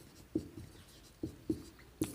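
Chalk or marker strokes tap and scrape across a classroom board in four short, distinct bursts with pauses between. The sound is fairly close but quiet, and no one speaks.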